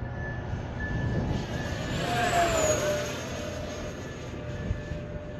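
An FMS F-18 Hornet 64mm EDF model jet flies overhead on its maiden day, its ducted fan whine rising and sweeping past as it passes near, then fading into steady outdoor rumble.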